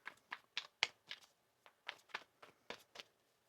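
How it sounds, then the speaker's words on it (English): Soft, quick riffling bursts of tarot cards being shuffled, about a dozen short flutters in an uneven rhythm, close and quiet with no talking. "One more shuffle here."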